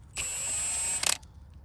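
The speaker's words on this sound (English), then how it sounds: "I have an impact gun to make it easier for me to take it off" An impact gun loosening a size 21 nut on a Hyundai, a single whirring burst of under a second ending in a quick rattling hammer of impacts, then quiet.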